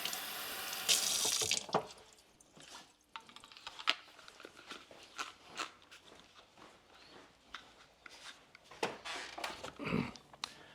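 Water runs steadily from a sink tap, with a brief clatter at the start and a few soft knocks and steps nearby.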